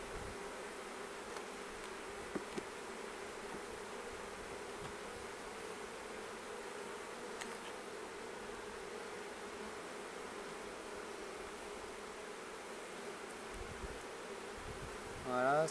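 Honeybees buzz steadily across a brood frame at an open hive during a spring inspection, a dense continuous hum that holds at one level throughout, with a brief louder swell at the very end.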